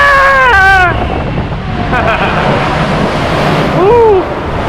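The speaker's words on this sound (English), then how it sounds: "Oh, a little splash." Water rushes and splashes around a log ride boat in Frontierland at Magic Kingdom, a loud, windy wash of spray, with riders shrieking and cheering close by.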